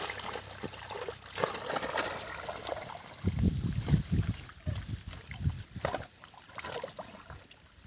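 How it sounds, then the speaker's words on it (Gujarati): Irrigation water runs into an onion field, a steady trickling and gurgling flow close to the microphone, with rougher splashy bursts partway through. "ડુંગળીમાં પાણી ચાલુ કરેલું છે"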